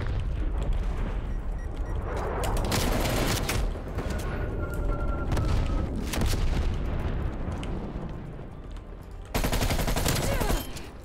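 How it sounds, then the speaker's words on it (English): A stun grenade goes off during a Call of Duty Black Ops Cold War team deathmatch on the Miami Strike map, a loud crackling burst amid continuous dense gunfire and rumbling, with a second sharp swell near the end. "Stun grenade out."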